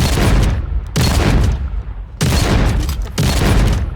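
Four loud, close shotgun blasts from the video game Brink, each a heavy broadband boom with a long roaring tail that barely fades before the next shot, spaced roughly a second apart.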